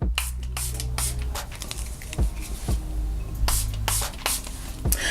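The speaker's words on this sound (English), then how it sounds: "I'm going to use the Milani Make It Dewy setting spray just on the perimeters of my face" Milani Make It Dewy setting spray misted around the edges of a face in a few short sprays, close and soft, mixed with light tapping and handling noises.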